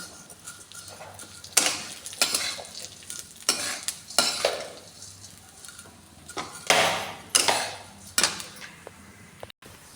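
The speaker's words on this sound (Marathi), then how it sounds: "शेवळ्या आपल्या बऱ्यापैकी भाजत आलेल्या आहेत" Wheat vermicelli roasts in ghee in a pan while a spoon stirs it, giving repeated scraping strokes and light sizzling. The strokes come in an irregular rhythm, close and clear, with no talk.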